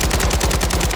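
Fast automatic gunfire from an MWII-era gun in Call of Duty Warzone, a tight, evenly spaced burst of loud, close shots with no talk over it.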